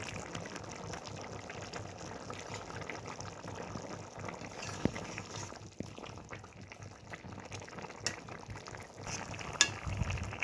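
Bottle gourd curry cooked with milk simmering in a pan, a soft, steady bubbling and faint sizzle, quiet and continuous with a few small pops and clinks.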